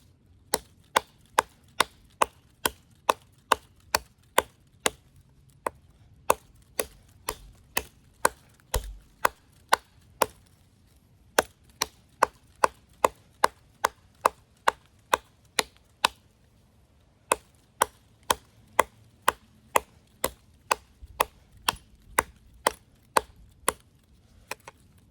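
An Off Grid knife, either the Caiman XXL or the Tracker X2 camp-size blade, chops wood in a steady run of sharp, close impacts, roughly two per second with a few brief pauses and no talking.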